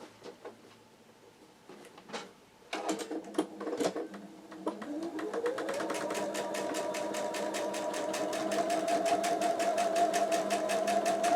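Sewing machine stitching quilt block fabric: after a few handling clicks and taps, the motor starts up and runs in a steady, rapid rhythmic whir of stitches, growing louder and continuing to the end.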